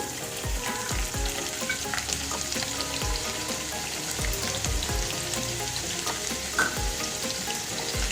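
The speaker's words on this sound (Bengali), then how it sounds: "এর মধ্যে এবার দেবো আমি রসুন ফোড়ন, দেবো কিছুটা রসুন," Garlic crackles in hot oil in a pan for chicken Manchurian, a dense, even sizzle that runs on unbroken with scattered pops and a few low knocks of a utensil.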